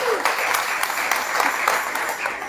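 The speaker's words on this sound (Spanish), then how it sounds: "¿Alguien le puede dar palmas a Jesús?" A church congregation claps steadily during a Good Friday sermon on the seven last words, a dense, continuous wash of applause from a crowd filling the room.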